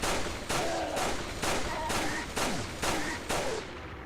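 Repeated gunshots fire inside the Resident Evil 4 video game: eight loud, evenly spaced blasts roughly half a second apart, each with a short ringing tail over steady background noise.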